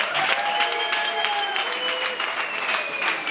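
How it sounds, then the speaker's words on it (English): Steady, dense applause from a large crowd, loud and continuous throughout, with a few cheers and whistles rising over the clapping. "Give yourselves another round of applause."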